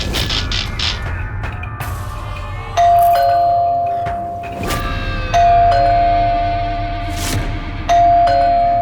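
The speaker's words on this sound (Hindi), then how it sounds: "नॉन स्टॉप घंटी बज रही है" A doorbell rings again and again, each chime a loud two-tone ding-dong with a long ringing tail, recurring in a steady pattern over muffled household clatter.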